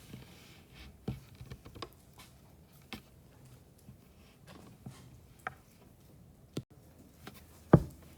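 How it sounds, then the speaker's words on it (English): Numbers are keyed into a handheld calculator as a sparse series of faint, close plastic button taps at irregular intervals, with one firmer press near the end. The taps sound against a quiet room, with no talking. "So I type that into my handy dandy calculator."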